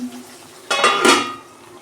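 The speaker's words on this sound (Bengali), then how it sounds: "দেখুন বন্ধুরা, ঢাকনা খুলছি।" A metal lid clatters sharply once as it comes off a pan of pabda fish simmering with potato and eggplant, followed by a brief scraping rattle that fades out; no talking.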